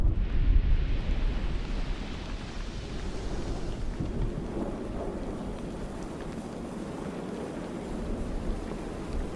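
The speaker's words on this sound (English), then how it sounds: "The first eruption is a big one." A big volcanic eruption rumbles as a deep, heavy roar that starts strong and continues as a sustained low rolling drone, fading slightly but persisting throughout.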